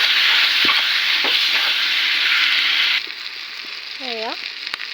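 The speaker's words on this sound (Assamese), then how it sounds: "আলুখিনিও তেনেকৈ অলপ সময় ভাজি ল'ম" Potatoes are added to meat coated in whole spices and fry in a pan with a loud, steady sizzle and stirring. The sizzle drops sharply partway through, leaving quieter frying and clinks.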